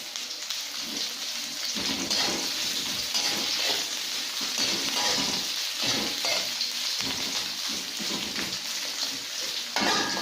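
Coarsely cut onions frying in a pan, a loud dense sizzle that holds steady from start to finish, close up with rhythmic swells as they are stirred.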